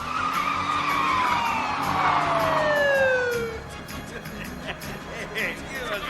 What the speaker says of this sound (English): I love sirens. They really get your attention.